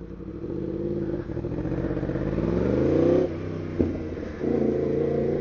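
A Yamaha MT-10 motorcycle engine pulls hard and rises steadily in pitch through the gears, a smooth continuous drone with a brief dip at a shift, heard close and alone.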